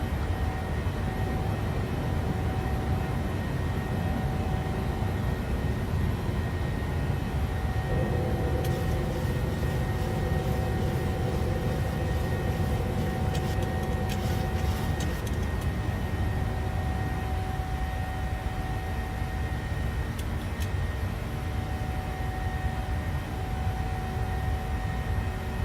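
Steady broadband roar of a PMDG 737 jet engine in Microsoft Flight Simulator as the airliner climbs after takeoff, continuous and even throughout, with faint cockpit clicks and brief chimes partway through.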